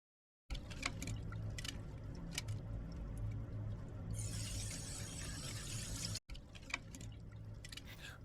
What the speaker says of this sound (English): A power washer attachment on my garden hose will make quick work of the separation.